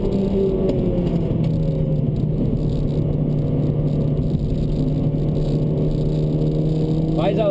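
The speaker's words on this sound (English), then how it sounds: "Can you hear that engine? It is incredible." A Honda Civic Type-R engine drones steadily and loudly from inside the moving car, a constant revving hum under road rumble with no clear pauses.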